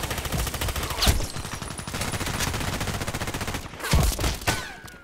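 Rapid automatic assault rifle fire in the online shooter Contract Wars, a steady fast stream of shots with brief pauses and a few louder cracks near the end, close and continuous.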